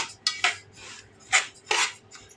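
A spoon stirs sesame seeds in hot ghee in a pan, four sharp metallic scrapes and clinks in an uneven rhythm against a quiet background.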